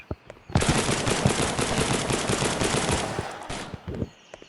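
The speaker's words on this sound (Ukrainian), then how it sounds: "О, по мені почали стріляти." Rapid bursts of automatic gunfire from a video game, loud and continuous for several seconds, with a few single shots trailing off at the end.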